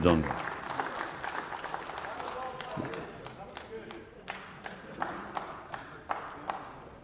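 Scattered, thinning applause from members of the European Parliament chamber, with irregular individual claps fading after an initial burst while voices murmur underneath.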